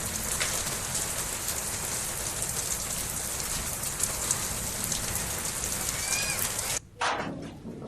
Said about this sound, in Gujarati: રાપરના જાટાવાડામાં કરાનો વરસાદ, ઝરમર વરસાદની સાથે કરા પડ્યા